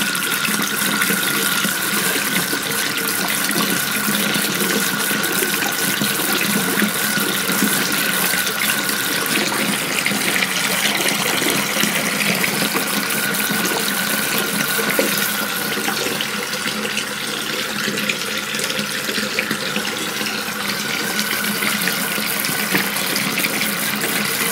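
Hot water running from a tap in a home electric heating setup, a loud, steady rushing stream that holds constant from start to finish with no speech.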